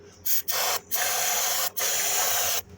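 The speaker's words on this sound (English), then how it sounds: "Let's see if we can spray some starting fluid up underneath the air cleaner." An aerosol can of starting fluid sprays under an air cleaner in several loud hissing bursts of varying length, separated by short pauses, very close and with no talking.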